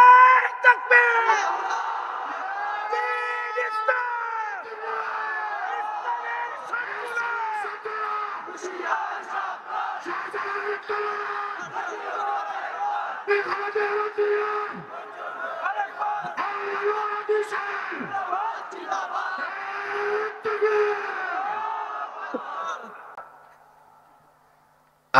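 A large gathering at a religious speech roars back in unison after a call of Nara-e-Takbir, its loud, sustained chanting in repeated swells lasting over twenty seconds before fading out.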